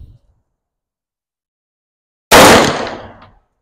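A gun is test-fired at a shooting range: after near silence, one loud, close shot cracks out and its echo decays over about a second.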